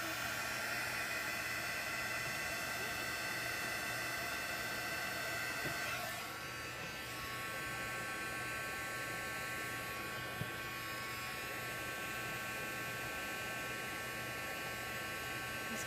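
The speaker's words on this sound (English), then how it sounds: "and then I'm going to heat set it" A heat tool blows steadily on a watercolor card to set fresh gesso, a constant close whirring hum with a hiss of air that runs the whole time without pause.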